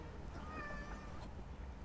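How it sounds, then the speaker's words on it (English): A single drawn-out cat meow, faint and somewhat distant, over a low background rumble. "You hear the meow?"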